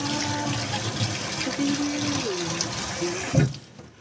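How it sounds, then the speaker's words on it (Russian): A little water pours from a tap or into a vessel, a continuous splashing trickle with small gurgling tones that stops abruptly near the end after a brief louder splash. "Теперь сюда немножко водички."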